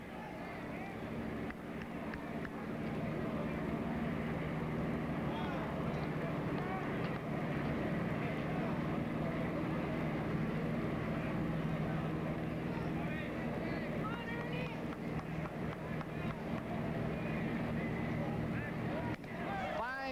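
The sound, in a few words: airplane towing a banner flying over the ballpark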